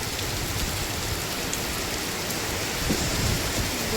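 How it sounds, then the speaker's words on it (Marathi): Heavy rain pours steadily in a dense, unbroken hiss of drops on surfaces, loud and close throughout with no voices. "खूप भयानक पाऊस चालू आहे"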